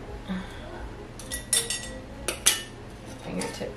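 Glass canning jars fitted with Tattler lids clink sharply a few times as their rings are twisted fingertip tight, light metallic and glassy knocks close by with quiet kitchen background.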